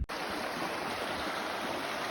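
A stream runs at a water crossing on the Ozark Highlands Trail. Continuous rushing and burbling water sounds close by and steady for a couple of seconds after a brief handling knock at the start.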